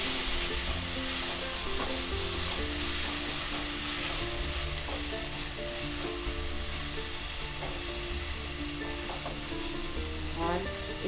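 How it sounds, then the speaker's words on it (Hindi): Ginger garlic paste with a little chili sizzles steadily as it is stirred into frying onions, a dense, even hiss close by with soft scraping strokes. "हमारा जिंजर गार्लिक पेस्ट अब इसे अच्छी तरह से हम स्टर करेंगे"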